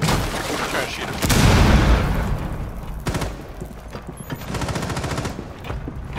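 Gunfire in a Rainbow Six Siege bomb match on the Bank map: loud, close bursts of automatic shots and booming impacts come in several clusters, with a player's voice talking over parts of it.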